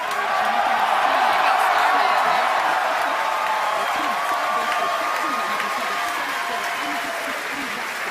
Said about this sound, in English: if you could hear all that cheering